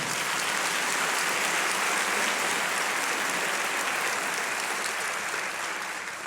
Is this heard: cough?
no